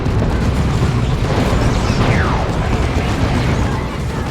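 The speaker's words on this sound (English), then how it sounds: "Stick bombs." Stick bombs exploding in a Warhammer 40,000: Dawn of War 2 3v3 battle: a loud, rumbling blast with a falling whistle amid continuous booming battle noise.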